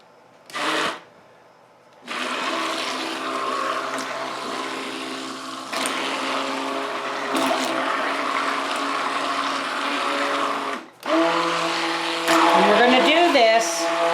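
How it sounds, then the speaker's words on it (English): A blender whirs steadily as lye is mixed into a soap batter during homemade soap making, running in long sustained stretches with brief pauses and restarts. "And now we're going to start to blend."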